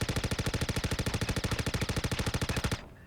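Rapid automatic fire from a silenced rifle with a 2x scope in the video game Star Citizen, one loud continuous burst of about thirty evenly spaced shots lasting nearly three seconds, then stopping abruptly.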